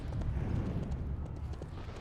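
Horse hooves clip-clop in the Rift video game, a quick run of muffled hoof beats that stays fairly quiet.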